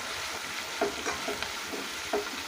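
Onions frying in a pan for egg fried rice give a steady, soft sizzle throughout, with a few faint stirring scrapes scattered across it; no one talks.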